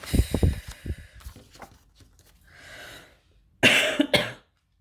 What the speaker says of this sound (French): j'ai toujours la toux